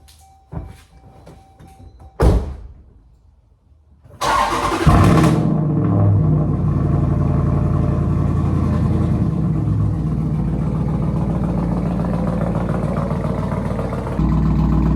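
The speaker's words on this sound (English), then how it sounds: "I'm gonna get y'all with a cold start." A Jeep SRT engine cold starts, cranking and catching with a sharp burst, then settles into a loud, steady, rumbling idle close by, preceded by a few clicks and thumps.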